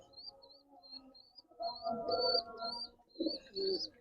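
A pigeon coos softly with repeated low calls, while a higher bird chirps in a regular series above it throughout.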